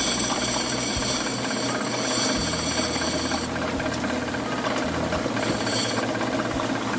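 Lapidary grinding wheels in a rock shop smooth garnet stones, giving a steady whirring mechanical drone with a rhythmic knocking rattle and gritty grinding, close and continuous.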